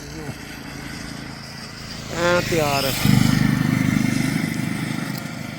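A Royal Enfield Super Meteor 650 motorcycle at a Ladakh camping spot in the rain, its engine rising to a loud, steady throbbing drone partway through while people talk nearby.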